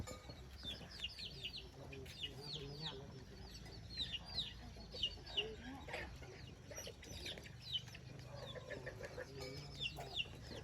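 Chickens cluck around a rural Lao village, with repeated short clucks and soft calls from several birds at close to moderate distance, fairly faint, over a steady background hiss and a little low talk.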